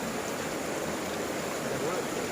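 Cool stream water flowing past an outdoor picnic spot, a constant even rushing hiss with no breaks, close and moderately loud.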